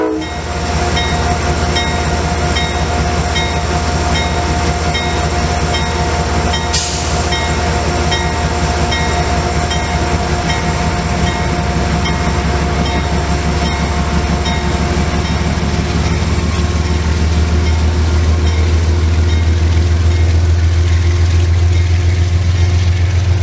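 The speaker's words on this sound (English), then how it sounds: "As the train rolls out of the station" A CSX freight train on the Mohawk Subdivision departs a station, its steady low engine rumble and rolling wagons building loudly and continuously, with a brief horn-like burst early on.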